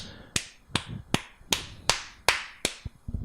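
Seven loud, crisp hand claps from a host on a sports podcast, evenly spaced about every 0.4 seconds, close and dry, with a couple of softer taps at the end.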